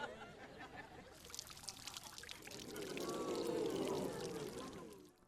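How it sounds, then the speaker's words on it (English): Coffee poured from a cup onto a person's head in a school scene, a steady liquid splash building in the middle and trailing off, close and fairly loud with faint voices behind. "when Jade pours that cup of coffee on Tori's head"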